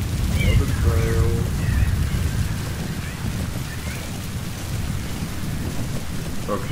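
Steady rain and rolling thunder of a thunderstorm in the video game Metal Gear Solid V: The Phantom Pain, a loud continuous low rumble with hiss throughout, with a few brief voice-like sounds over it.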